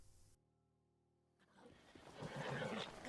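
A horse neighs in The Legend of Zelda: Breath of the Wild during a horse glitch, a loud, rough whinny that bursts in after a moment of near silence and swells toward the end.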